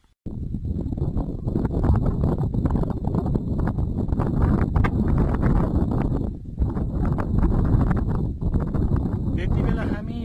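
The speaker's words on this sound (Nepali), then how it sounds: "एकदमै हावाहुरी लागिरहेको छ एकदमै खराब छ" Strong gusty wind on a mountain hillside trail near a rhododendron forest roars and buffets the microphone almost continuously, with a person talking through it.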